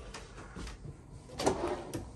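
A drawer in a travel trailer camper slides and knocks shut nearby, with a few soft clunks and scrapes in a quiet room.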